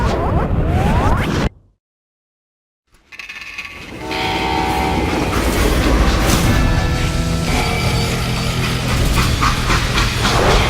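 A freight train in the Western video game Call of Juarez Gunslinger, with clanking mechanical rumble and squealing metal that rise after a short silence into a loud, sustained roll, without speech.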